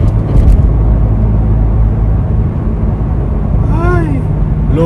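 A car drives through -39°C Canadian winter cold on a foggy road, its steady low rumble of road and suspension noise running throughout, with a few brief squeaking creaks near the end.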